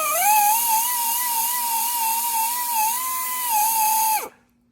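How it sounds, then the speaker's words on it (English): A handheld grinder works body filler on a classic Porsche 944, a steady high whine with wavering pitch that runs loud and close for about four seconds before cutting off abruptly. "I did a little bit more grinding with my handy dandy grinder"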